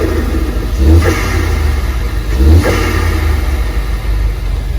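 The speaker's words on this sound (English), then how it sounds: "Let me hear that new intake." Car engine fitted with a new Cobb Stage 1 intake revs twice in quick bursts, loud and close, each swell rising and falling over a steady idle rumble, with no talking.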